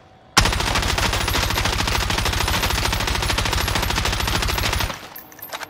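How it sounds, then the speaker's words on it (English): Assault rifle in the video game Warzone emptying a full 60-round magazine in one unbroken, loud burst of rapid automatic fire lasting about four and a half seconds, then stopping abruptly. "we're gonna let the whole 60 round clip go"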